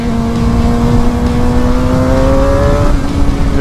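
A Suzuki GSX-R 750 motorcycle engine revving hard on a road ride, a loud close whine climbing steadily in pitch before easing off near the end.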